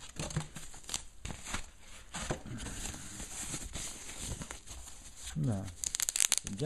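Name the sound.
crinkling protective bag with foam around projector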